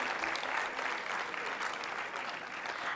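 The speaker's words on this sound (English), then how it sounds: "Please give a huge round of applause for her again" Sustained audience applause at a youth health consultation event at AIIMS Rishikesh, a dense, steady wash of clapping that fills the whole moment without pause.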